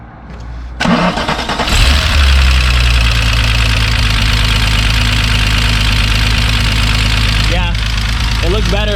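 A VW MK3 VR6 turbo engine in a wagon build cranks, fires up and settles into a loud, steady idle close to the microphone, with people talking over it.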